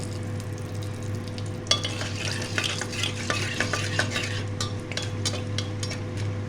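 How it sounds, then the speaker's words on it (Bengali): Bay leaves, a dried chilli, cardamom, cinnamon and cloves fry gently in hot oil, giving a steady soft sizzle with light stirring scrapes and a few spoon clicks against the pan, close by and with no voices. "এটা একটু হালকা ভাজা হবে।"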